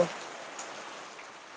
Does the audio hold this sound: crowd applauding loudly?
no